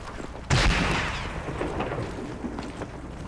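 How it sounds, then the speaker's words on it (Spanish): A grenade explodes in Arma 3 with one sharp, loud blast that rolls off into a long rumbling decay, with fainter distant pops following. "¿Quién coño anda lanzando granadas aquí?"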